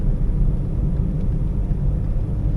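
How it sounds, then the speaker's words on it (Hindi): Maruti Suzuki Baleno car accelerating from a standstill in first gear with the accelerator floored, a steady loud low engine rumble continuing throughout without a break. "अब मैं क्लच छोड़ के गाड़ी को एक्सेलरेट कर रहा हूँ।"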